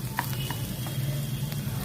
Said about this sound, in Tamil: இது எல்லாத்தையும் நம்ம நல்லா கலந்து விட்டுக்கலாம்.